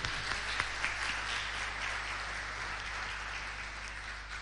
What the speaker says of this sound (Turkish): Bir alkış istiyoruz Ayhan Bey'i.